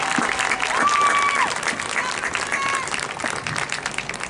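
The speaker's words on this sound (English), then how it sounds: "So another round of applause for the freshman band." A concert crowd applauds a freshman marching band, a dense wash of clapping with a few voices and whistles rising above it, sustained at even loudness.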